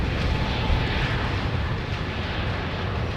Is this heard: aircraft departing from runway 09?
yes